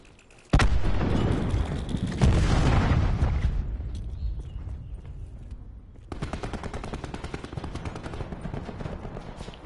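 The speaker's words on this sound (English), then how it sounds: "Cluster grenade going out." Cluster grenades in Call of Duty Black Ops 4 set off a heavy blast, then a second boom that rumbles and fades, followed by a rapid crackling string of smaller detonations.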